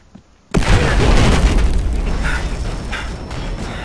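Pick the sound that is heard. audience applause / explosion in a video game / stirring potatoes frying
explosion in a video game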